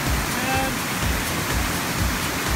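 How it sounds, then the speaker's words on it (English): A loud waterfall roars beside a river, a dense unbroken rush of white water filling the whole clip, close and overpowering with no clear voices on top. "we're right next to the waterfall"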